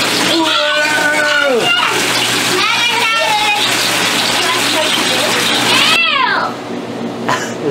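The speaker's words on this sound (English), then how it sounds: "But the highlight is the jet pool." A jet pool tub running in a house, with a constant rush of bubbling, churning water close by. Excited high-pitched voices squeal and call out over it before the water noise eases slightly near the end.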